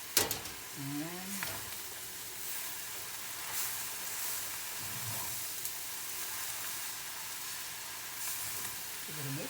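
Hoisin turkey noodles sizzle steadily in a hot pan while being stirred, a constant frying hiss with occasional scraping stir sounds and brief bits of speech.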